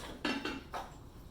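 Three quick clanks of a hot stoneware Rockcrok pot holding fajitas being handled and pulled out, short ringing knocks of ceramic and metal against a quiet kitchen background.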